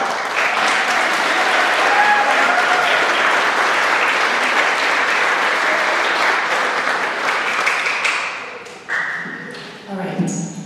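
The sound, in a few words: graduation audience applause for a teacher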